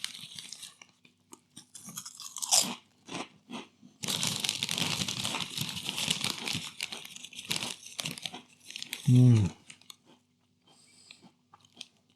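Someone crunches snack crackers, Cheez-It or Walkers Squares, during a taste test: close crinkling and crisp bites with chewing, a dense crunching stretch in the middle and a thud near the end.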